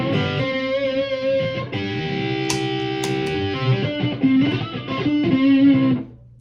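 Electric guitar played through a distortion pedal into a battery-powered amp, loud sustained overdriven chords and notes ringing for several seconds before cutting off.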